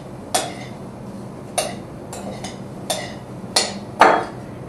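A spoon tapping and scraping in a bowl while mixing dried sour cherries, spice, flour and Truvia sweetener. Six sharp, separate clinks come a little under a second apart, close and clear, with no talking.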